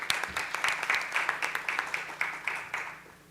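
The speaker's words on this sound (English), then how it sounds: "I would like you to clap" An audience applauding after a teaching programme presentation, a steady burst of many hands clapping close by for about three seconds, fading slightly at the end.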